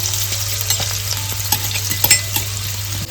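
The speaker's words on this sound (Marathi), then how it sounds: "लसूण आणि मिरचीचा ठेचा केलाय तो घालून घेते." Crushed garlic and chili paste sizzles steadily in hot oil for a tempering, a loud continuous frying hiss close up with occasional light clinks of a stirring utensil and no talking.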